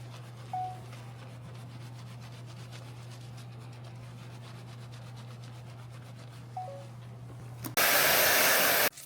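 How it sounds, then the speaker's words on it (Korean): In a salon, a hair dryer blows over bleached and dyed hair. Under a low steady hum, the dryer roars loudly for about a second near the end, then cuts off. "모발을 전체 건조했습니다."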